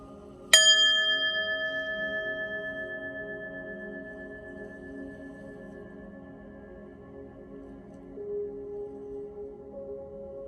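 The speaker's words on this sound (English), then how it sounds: "I'm gonna ring the bell, clear your energy" A single bell is struck once near the start, giving a bright clear tone that rings on and slowly fades over several seconds, close and alone in a quiet room.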